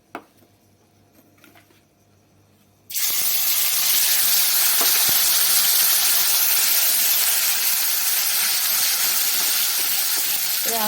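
Ground spice paste drops into a hot pan for cauliflower rezala; after about three seconds of near quiet, a sudden loud, steady hiss of frying starts and keeps going without a break.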